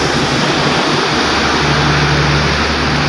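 Strong floodwater surging through Abu Dhabi streets during heavy rain, a loud, dense, unbroken roar of rushing water close by.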